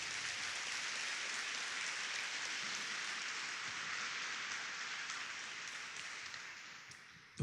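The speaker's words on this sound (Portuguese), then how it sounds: "Se é para Jesus, pode aplaudir." A church congregation applauds in a steady, rain-like patter of many hands, fairly faint and distant, easing slightly before ending with a sharp knock.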